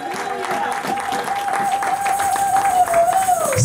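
A church congregation claps and cheers in praise of the Lord, a steady crowd applause building toward the end, with a long sustained voice ringing out over the clapping.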